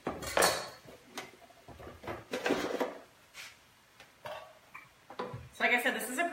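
Slow cooker parts are lifted out and set down in a home kitchen, giving a string of separate clanks, knocks and rattles of pot and lid. A voice talks quietly between the knocks.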